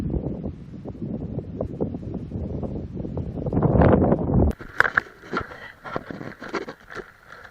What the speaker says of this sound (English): It's very windy, very, very wet.